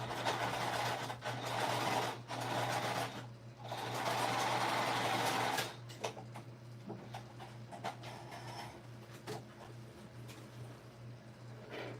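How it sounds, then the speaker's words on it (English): Sewing machine stitching a second line of stitching on a shoulder bag, a close, steady motor hum with bursts of rapid needle clatter that fade to quieter handling noises. "I'm gonna sew that second line of stitching."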